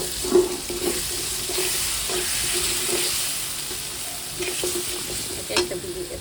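Meat with spices, onion paste and nut paste frying in a pan, a continuous sizzle with repeated scraping stirs and occasional clinks, close and steady.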